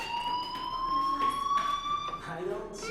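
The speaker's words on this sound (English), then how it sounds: "do you hear that fire alarm?" Fire alarm ringing in the video game Life Is Strange, a steady high electronic tone holding throughout, loud and continuous, with faint background game sounds beneath.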